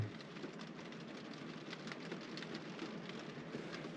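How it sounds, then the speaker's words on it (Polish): Rain falls steadily in the Kashubian countryside in early spring, a soft continuous patter of drops on surfaces with occasional louder hits, fairly faint and even throughout, with no talking. "Popada tam może z pół godziny i będzie już po deszczu chyba."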